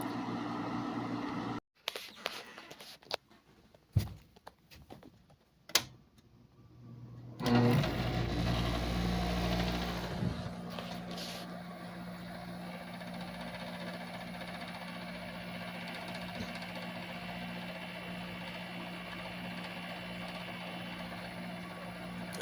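A Haier 5k BTU window air conditioner runs with a steady, smooth mechanical hum and low drone, heard close after some brief clunks and handling noises at the start.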